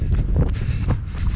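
Wind buffets a microphone during a run along the beach at Zandmotor, producing loud, low, irregular blustery rumbling gusts throughout with no voices.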